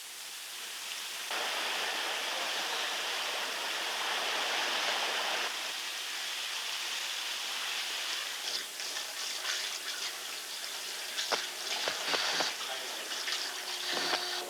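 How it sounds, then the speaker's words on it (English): Water floods a navy ship in a 1968 training film, a loud steady rushing gush like a torrent pouring in, later broken by clanks and bangs. "the repair party struggle with the water which is flooding the ship"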